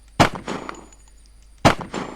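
Two loud, sharp unsuppressed gunshots from the video game Unturned ring out about a second and a half apart, each with a brief metallic echo trailing off.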